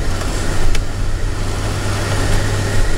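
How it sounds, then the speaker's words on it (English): Cars sit in a traffic jam on a two-lane country road, engines idling in a steady low rumble, loud and close, with a brief faint tick partway through. "This is a traffic jam on a 2-lane road out in the middle of God knows where in the country"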